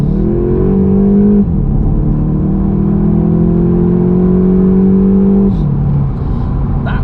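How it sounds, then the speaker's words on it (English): A 2020 VW Golf Mk8 GTI pulls hard from inside the cabin, the engine note climbing steadily before a quick gear change drops the pitch, then rising again; loud, smooth and continuous with no talk over it. "That's a really quick gear change."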